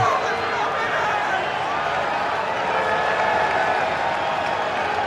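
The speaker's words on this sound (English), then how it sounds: "Standing ovation for the big crowd here at Oracle Park" Large baseball crowd at Oracle Park in San Francisco giving a standing ovation, a dense, loud and steady wash of applause and cheering that holds without a break.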